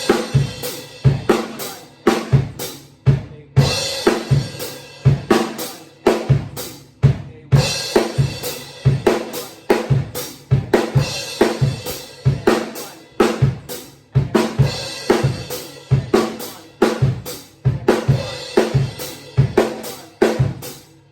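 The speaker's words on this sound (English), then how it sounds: "when you're gonna hit the crash or any cymbal, you need to have your bass drum" Songo drum pattern with crash cymbal hits landing together with the bass drum, mixed with snare and ride strokes. The groove runs close and loud in a steady, driving rhythm with regular bright accents.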